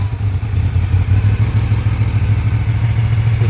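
A 1986 Honda VFR 750 F engine running on four cylinders without choke after years outside, a steady close low throb with slight rhythmic clatter and no talking.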